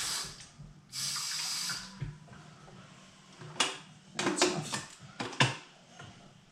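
Water runs from a tap into a kettle in a quiet kitchen, a steady rush that changes pitch, followed by several sharp clicks and knocks as the kettle is handled.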